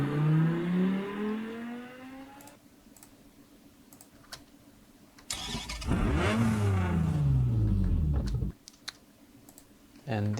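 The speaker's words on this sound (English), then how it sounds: "There are some other car racing sounds, like tires screeching or taking off or accelerating," Car sound effects from a music track, with an engine revving up in rising, sweeping pitches, a sudden start-up and a loud, sustained acceleration roar, broken by sharp clicks and quieter gaps between the bursts.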